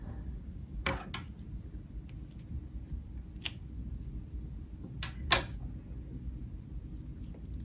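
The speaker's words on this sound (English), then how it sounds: "Then we can go ahead and cut the yarn." Scissors snip through crochet yarn in a quiet room, giving a few sharp isolated clicks and cuts spaced apart, close and crisp against near silence.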